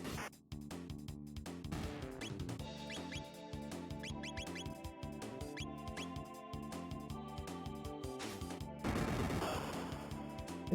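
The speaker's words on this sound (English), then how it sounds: "Explosions." Explosions in the Chrono Trigger video game burst out as a rapid string of loud, crackling blasts layered over a busy, dense game soundtrack, with a heavier burst near the end.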